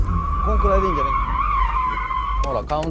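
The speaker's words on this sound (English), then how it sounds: "I countersteered and stopped the car facing the direction I want to exit" Tires squeal in a long, loud sustained screech of a car skidding sideways while drifting with the handbrake, with engine noise underneath and a brief burst of scrubbing at the end.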